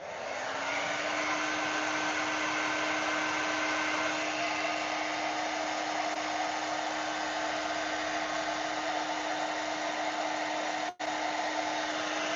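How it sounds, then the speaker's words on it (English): A blow dryer on its cooling setting gives a loud, steady whir with a constant hum. It runs without a break, except for a momentary dip near the end. "one great thing about this blow dryer is it has a cooling button on it"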